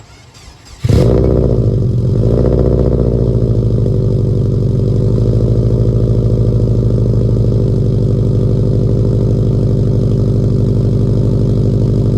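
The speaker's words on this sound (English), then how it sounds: "So we're gonna get a cold start on the Forester real quick." Subaru Forester engine cold-starting after sitting a couple of days: a short crank, then a loud catch into a steady, fast idle that settles and runs on alone.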